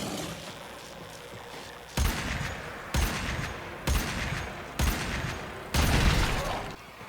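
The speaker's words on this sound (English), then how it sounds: "This little pistol hits pretty hard too" Heavy pistol shots in Warframe: five loud, evenly spaced blasts about a second apart, each with a long rumbling tail, standing alone with no talk.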